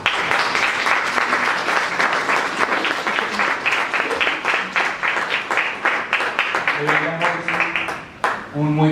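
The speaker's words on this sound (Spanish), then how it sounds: "Un muy visual aplauso a nuestro anterior panelista." An audience at a panel event applauds a panelist, dense clapping throughout with voices speaking over it near the end.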